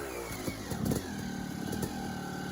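A Yamaha YZ250 two-stroke dirt bike engine buzzes steadily on an enduro trail, with short blips of the throttle as it climbs over a log, moderately near with no talking.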